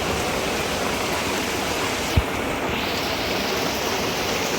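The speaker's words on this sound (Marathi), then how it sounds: "हा पहिला पाऊस आहे बघा" Heavy first monsoon rain pours down outdoors as a dense, steady hiss that fills the whole stretch, with one brief low thump partway through and no voices.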